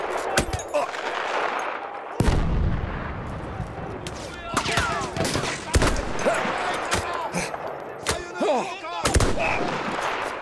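Marksman rifle shots crack out in the Battlefield 1 campaign: several sharp, loud single reports spaced a second or more apart, mixed with other battlefield gunfire and effects.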